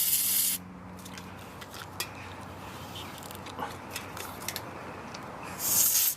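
White lithium grease is sprayed from an aerosol can onto a push bike cable, with short hissing bursts at the start and end framing quiet handling clicks and rustles, close up and without talk.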